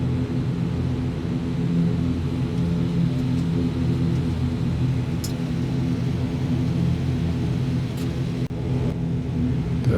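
A light aircraft drones in the distance at Southampton airport, a steady low engine rumble that persists throughout under the hum of a propeller airliner waiting on the apron.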